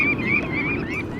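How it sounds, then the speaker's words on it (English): Red knots calling from a distance on a migratory stopover: a continuous run of thin, wavering whistled calls over a low, steady background. "the calls of red knots can be heard."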